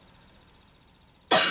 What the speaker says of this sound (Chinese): 老师，我咳嗽。